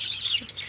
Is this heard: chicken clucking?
yes